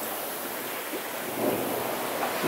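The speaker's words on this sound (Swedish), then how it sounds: "Nu blåser det bara 13 knop." Wind and sea waves heard from a sailing boat crossing the Bay of Biscay, a steady rushing roar with wind buffeting, swelling slightly louder partway through.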